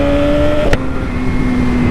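Yamaha R6 sport motorcycle engine with a quickshifter, a steady loud drone from close by with a sharp broadband burst partway through, then the engine carries on alone.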